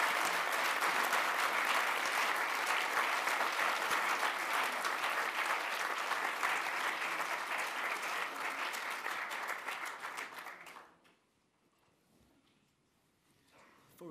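Sustained audience applause at the close of an evening panel event on the millennial generation and Washington's paralysis, steady and full for about ten seconds, then quickly dying away into near silence.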